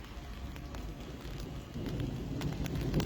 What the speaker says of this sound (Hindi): बहुत ही ज़्यादा तेज़ बारिश जो है वो शुरू हो चुकी है।